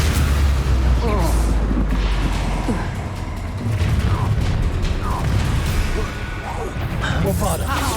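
Confringo spell blasts go off in the video game Hogwarts Legacy, heavy booming bursts over a dense, continuous rumble of game noise, with character voices speaking through it.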